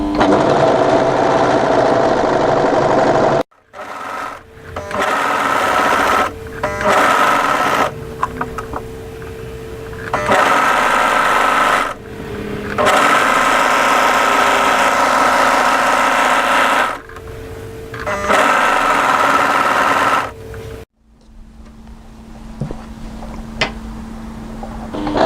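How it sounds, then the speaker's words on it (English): An overlocker runs in several bursts while serging around the curved edge of a kimono kaftan, its fast, even whir stopping and restarting with short pauses between runs. "overlock around the curve all the way to the same position on the other side seam"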